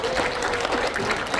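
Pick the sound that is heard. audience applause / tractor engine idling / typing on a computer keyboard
audience applause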